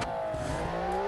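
A custom-built car engine in BeamNG.drive, designed in Automation, revs hard in a single smooth rising whine, a short loud burst that climbs steadily in pitch between gear changes with no one speaking.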